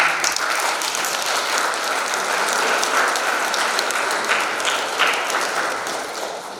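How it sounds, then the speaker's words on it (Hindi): Wedding guests at a church ceremony clap loudly: a thick, crackling burst of many hands applauding continuously, holding strong before easing off toward the close. "और एक बार जोर से ताली."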